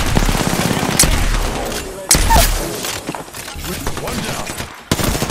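Bursts of rapid gunfire in the Apex Legends battle royale game, loud, close and repeated in several volleys with sharp impacts, with brief game voice lines mixed underneath.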